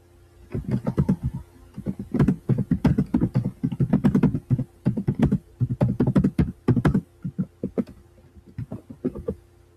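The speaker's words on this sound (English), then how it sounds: "I guess I'm just gonna type." Keys clatter on a computer keyboard in dense, close bursts of rapid typing, with brief pauses between runs and the rhythm thinning out toward the end.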